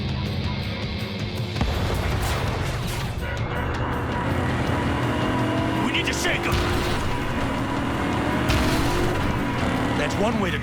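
A car engine in Cyberpunk 2077 runs hard and steady throughout, a loud continuous roar with rumbling low end, joined by bursts of crashing impacts and gunfire-like cracks while voices speak over it.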